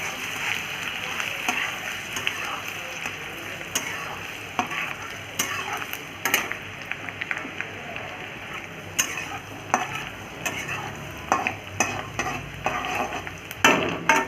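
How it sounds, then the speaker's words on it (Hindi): Whole spices, green chili and ginger half-frying in hot oil for dhaba-style pepper chicken, a loud continuous sizzle with frequent stirring scrapes and clatter close by. "अभी ऑयल इसमें चढ़ा डालते हैं खड़ा मसाला, मिर्ची, ये जिंजर जो अदरक बोलते हैं, इसको थोड़ा हाफ फ्राई कर देंगे।"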